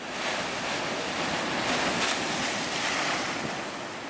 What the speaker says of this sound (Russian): Действительно преграждает путь волнам. Волны вообще очень большие.